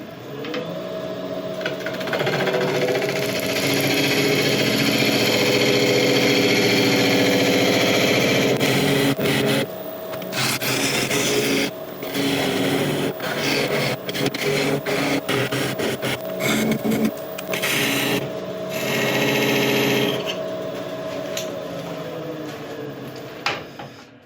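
A wood lathe cuts a foot and tenon on the base of a burl hollow form, giving a dense, loud scraping whir that holds steady, then breaks into choppy bursts and gaps toward the end.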